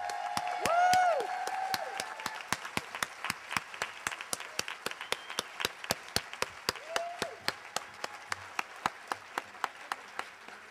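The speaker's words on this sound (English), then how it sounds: "give an enormous round of applause for our debaters" Audience applause for the debaters at a fundraising debate event, swelling with whoops and cheers at the start, then thinning to a steady, fairly sparse run of individual hand claps that carries on alone.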